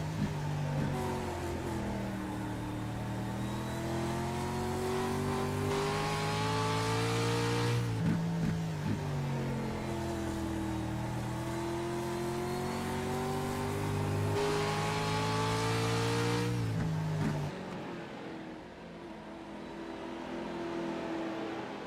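On-board engine of a race car at South Boston, a steady, loud drone that climbs in pitch, dips sharply at two gear shifts, and then drops off as the driver lifts near the end.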